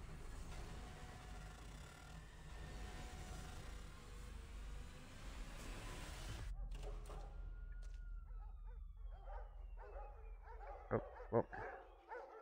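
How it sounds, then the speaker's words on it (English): Dogs barking in the video game Observer, a few sharp distant barks over dense ambient game noise that drops away partway through. "Oh, I hear dogs."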